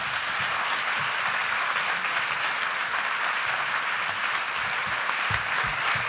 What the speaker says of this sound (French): Merci d'applaudir très fort Nicolas Delestre.